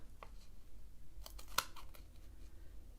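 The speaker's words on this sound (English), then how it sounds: "you get your scissors and you're going to cut them in half" Scissors snip through cardstock for a Valentine's Day card, a few quiet crisp clicks with one sharper cut in the middle, faint against a low background hum.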